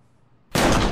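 A single loud gunshot in Borderlands 2 breaks a near-silent pause and rings out with a broad, full blast that sustains to the end.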